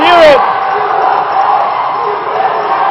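A dodgeball crowd at the USA vs Australia world championship in Cancun cheers loudly and steadily, a broad wash of voices that holds for the whole stretch after a brief sharp whoop at the start.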